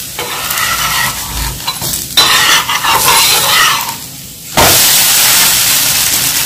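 A flatbread made with chana dal flour browns in ghee or butter on a pan over medium or low heat, making a loud, close, continuous sizzle that swells and shifts as it is turned.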